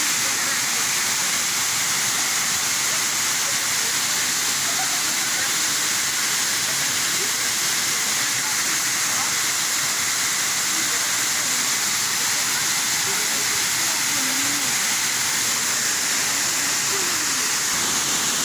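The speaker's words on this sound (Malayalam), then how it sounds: "ഇതാണ് കാഞ്ഞിരക്കൊല്ലിയിലെ അളകാപുരി വെള്ളച്ചാട്ടം" Alakapuri waterfall at Kanjirakolli in Kannur, a loud, steady rushing roar of falling water heard close by, with voices talking faintly under it.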